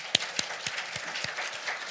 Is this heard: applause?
yes